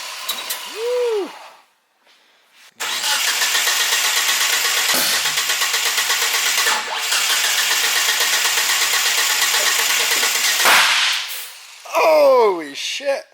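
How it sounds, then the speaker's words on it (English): A big-turbo AWD first-generation Mitsubishi GSX engine, running with detonation: a brief whistle, then a sudden loud start into a rough, rapidly pulsing roar that cuts off, followed by whooshing turbo sounds. "That seems like some detonation."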